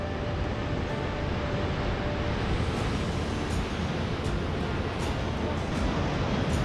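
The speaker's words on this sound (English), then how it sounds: "Look at the waves." Ocean waves wash steadily near limestone caves on the Eyre Peninsula coast, a loud continuous roar of surf with no breaks, close and dominating.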